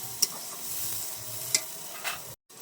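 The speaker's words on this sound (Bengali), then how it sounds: "এটা দিয়ে টক দইটা দিয়ে দেবো, এবার একটু কষে নেবো" Yogurt being stirred into a sizzling jackfruit biryani masala, a soft steady frying hiss with a few sharp spoon clinks against the pan, then a brief cutoff near the end.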